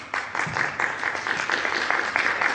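An audience claps steadily for an actor, a dense, continuous round of applause from many hands that stays at an even level throughout, with no voices.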